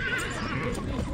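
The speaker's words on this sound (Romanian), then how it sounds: "Da, e calul, e frumos" A stallion in Vicovu de Sus, Romania, gives a loud, close whinny over rustling background noise and faint voices.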